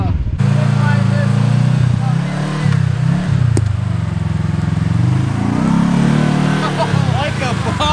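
Kawasaki Teryx KRX 1000 side-by-side in four-wheel-drive low range, its engine droning steadily with rising and falling throttle swells while crawling over rough terrain; a person talks over the engine noise.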